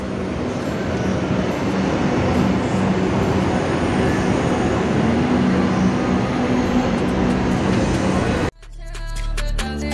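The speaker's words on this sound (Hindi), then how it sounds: "तो उनका मेट्रो आ चुका है" A loud, steady rumble and rushing roar of a metro train arriving in Kolkata fills the scene, then drops off abruptly near the end, leaving quieter clattering.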